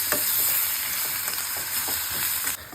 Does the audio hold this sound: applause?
no